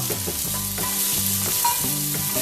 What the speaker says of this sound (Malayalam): ടൊമാറ്റോയുടെ കൂട്ടത്തിൽ തന്നെ രണ്ട് പച്ചമുളക് വട്ടത്തിൽ അരിഞ്ഞതും കൂടെ ചേർക്കുക